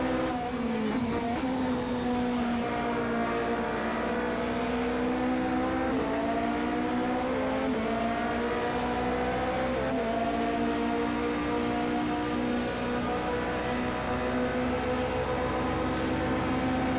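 Race cars in Project CARS 2 at Monza roar with rising and falling engine tones, the pitch climbing through gears and dropping at shifts, loud and sustained.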